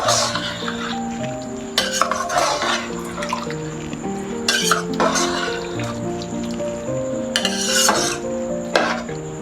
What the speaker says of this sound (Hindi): इसमें हम ये चिकन डाल देंगे जो हमने फ्राई किया था। अच्छी तरह मिक्स करके